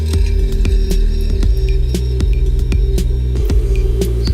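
A 3D printer prints a shock mount part, giving a close, steady motor hum with layered tonal whine, punctuated by regular sharp clicks and ticks as the head moves, with no voices.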